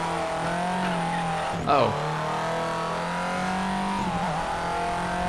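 A rally car in Colin McRae: DiRT drones at steady high revs with a strong harmonic engine tone, punctuated by a quick shift or skid around two seconds and another dip later, while a player briefly exclaims.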